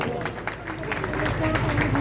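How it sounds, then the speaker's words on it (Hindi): Applause from the audience at a BJP Delhi election rally, a steady patter of clapping and crowd noise mixed with talk. "तो ताली क्यों नहीं बजाते?"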